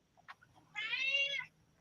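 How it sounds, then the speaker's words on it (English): A cat gives a single clear, drawn-out meow, fairly close and loud against a quiet room, with a couple of soft chirps just before it. "The cats are talking."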